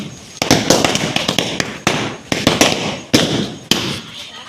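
Firecrackers bursting during a Diwali celebration: a dense run of loud, sharp bangs and pops in rapid, irregular succession, with crackling between the blasts.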